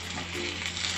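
Food fries in a lightly greased pan, giving a short, even, soft sizzle with no speech.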